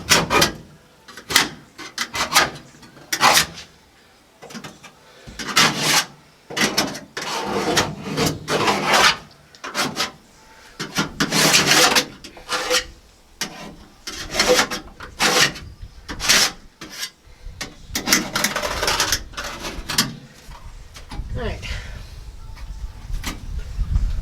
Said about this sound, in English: marker wasn't working, so we'll try to scribe.